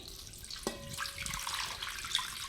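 Tap water runs and splashes into a sink while buffalo butter is washed, a steady close rush with small clatters and drips scattered through it.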